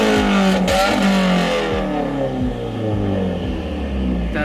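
A 2018 Subaru WRX with a very loud exhaust revs hard close by, the engine note sweeping up and down repeatedly in a continuous roar.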